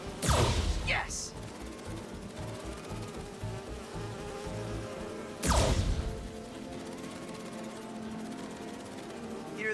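Bee wolves buzz in the video game Marvel's Spider-Man 2, a droning insect hum running beneath loud whooshing swipes and crashing impacts from the game's combat.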